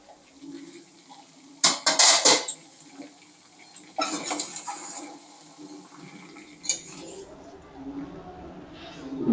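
A lid set down over a cooking pot of spicy chicken giblets, with a couple of loud metallic clatters and scrapes close by, followed by quieter handling noises.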